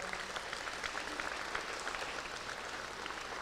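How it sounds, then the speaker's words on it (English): A crowd applauds steadily, a dense wash of clapping hands that holds at an even level throughout. "Jim Pepper Henry, can you stand up and take a round of applause over there"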